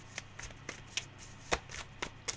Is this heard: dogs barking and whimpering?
no